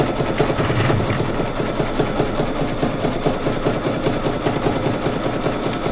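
An embroidery sewing machine stitches an open zigzag on an in-the-hoop pumpkin coaster, giving a steady, rapid mechanical chatter that runs close and continuous throughout with no talk.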